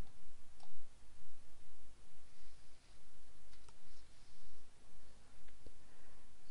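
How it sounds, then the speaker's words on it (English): A computer mouse clicks a few times, faint and widely spaced, during a Skype setup, each click a soft sharp tick over a steady background hiss. "I'm going to click here on Skype Setup, and I'll click OK for that, and just going to click on Run"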